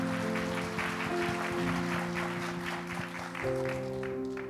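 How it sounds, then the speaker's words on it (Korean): Church congregation applauding during a Christmas service, steady broadband clapping with sustained organ or keyboard tones underneath throughout. "우리 먼저 큰 박수로 축복의 영광과 박수를 올려드리도록 하겠습니다."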